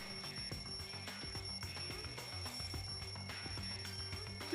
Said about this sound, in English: The wall clock just started ringing.